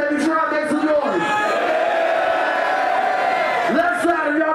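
A concert crowd at a rap show in Brooklyn, New York roars and yells, a loud sustained wall of cheering and whooping with shouted voices rising above it.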